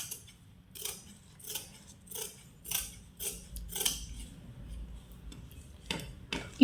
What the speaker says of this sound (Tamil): இப்போ அந்த வளைவு கட் பண்ணிக்கலாம்.